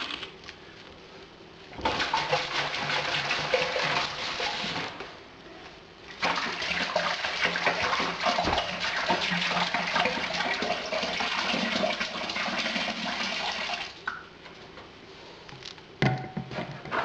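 Tap water gushes and splashes into a plastic brewing fermenter as it fills to 23 litres for a Coopers Mexican Cerveza home-brew kit. The loud, close pouring runs in two long bursts with a short pause between them, then tails off.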